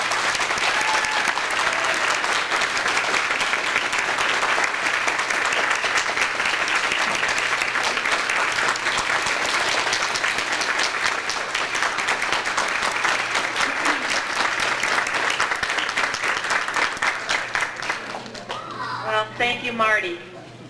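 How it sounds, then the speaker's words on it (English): An audience applauds library staff and their director at a library dedication, a loud, dense and steady burst of clapping lasting about eighteen seconds before it thins out as a voice begins. "please applaud the work of the library staff and its absolutely magnificent director, Janet Steiner."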